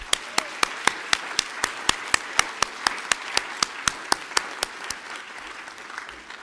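A church congregation at a Mass honoring Rev. Dr. Martin Luther King, Jr. claps in a steady, quick unison rhythm of sharp hand claps, close and clear, then thins out and fades over the last second or so.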